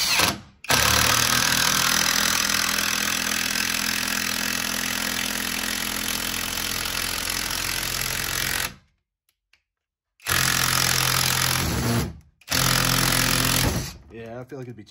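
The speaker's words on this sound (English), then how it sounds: "we will drive a 4-inch screw with this" Litheli L20 impact driver driving a 4-inch screw, a loud, sustained rattling hammer for about eight seconds, a short pause, then two more bursts of close, harsh impacting as the screw goes in.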